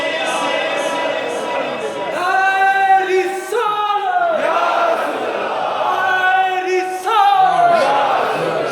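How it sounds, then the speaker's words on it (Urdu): Crowd at a mosque naat gathering in Peterborough chanting Ya Rasool Allah in unison, repeated rhythmic voiced phrases rising and falling in loud, reverberant waves. "سب جھوم کے بولو یا رسول اللہ یا حبیب اللہ"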